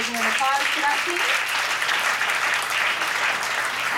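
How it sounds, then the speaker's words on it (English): A large crowd at a hackathon awards ceremony applauds steadily, dense clapping filling the room with a few faint voices calling out underneath. "if everybody can give a applause to that team"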